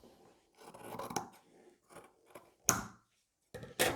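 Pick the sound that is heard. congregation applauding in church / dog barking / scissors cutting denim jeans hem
scissors cutting denim jeans hem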